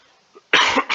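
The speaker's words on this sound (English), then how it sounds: "the more I cough." A single sharp cough bursts out after a moment of near silence, followed closely by a shorter second cough, both loud and close.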